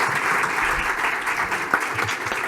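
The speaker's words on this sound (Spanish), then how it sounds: "Un aplauso." Steady applause from an audience at a corporate risk and compliance conference, dense and continuous throughout with no pauses, heard alone without talk.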